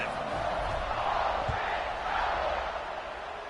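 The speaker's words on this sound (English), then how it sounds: "this crowd is feeling themselves after that last drive" Football stadium crowd roaring and cheering in a steady, dense wash of many voices, loud and continuous throughout.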